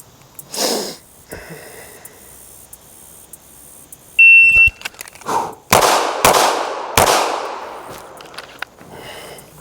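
A Laugo Arms Alien pistol fires a Mozambique drill after a shot-timer beep: three sharp, loud reports, two in quick succession and then a third, with short echoing tails.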